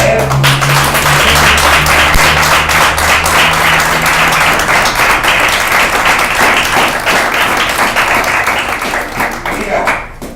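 Applause from a church congregation, dense continuous clapping at full strength throughout, with a brief low voice at the start before the clapping thins slightly toward the end.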